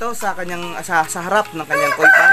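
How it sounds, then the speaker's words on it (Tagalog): A backyard chicken clucks and crows loudly close by, its calls overlapping someone speaking throughout. "pagpasensyahan nyo na yung ingay ng manok"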